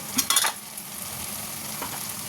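Ground turmeric, Kashmiri red chilli and cumin powders hit hot oil in a pan, opening with a few sharp clatters of a spoon stirring, then settling into a steady close sizzle.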